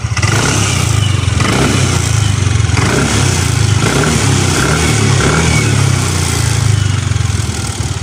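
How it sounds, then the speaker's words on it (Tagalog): A second-hand motorcycle engine revved hard with the throttle, a loud close continuous roar with a throbbing low rumble and rising and falling surges, no talking. "try natin naman na ibirit siya doon sa throttle niya"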